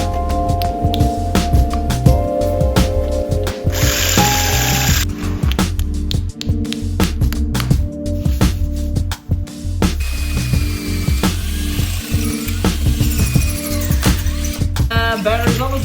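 A cordless drill whirs in loud, uneven bursts on a nearly dead battery, bogging and revving as it bores a hole, with clicks and clatter close by.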